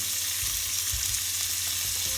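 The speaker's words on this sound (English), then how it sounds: "I just have some oil in a pan heating up. I'm just going to brown off this diced beef" Diced beef browning in hot oil in a pan, a dense steady sizzle with faint low thumps from the meat shifting. Sounds close and continuous, with no talking.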